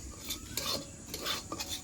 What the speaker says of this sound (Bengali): এর জন্য সুজিটা নেড়ে চেড়ে ভালো করে ভেজে নেব